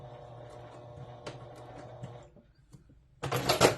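A sewing machine stitches and back-stitches near the crotch seam while sewing a fly front zipper: a low steady mechanical whir runs through most of the clip, then a short loud burst of rapid stitching comes at the end.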